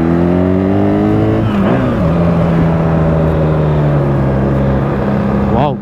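A BMW R1300GS motorcycle engine pulls hard under acceleration, a loud, close, steady drone that climbs in pitch, dipping briefly as it shifts gear, over constant wind rush.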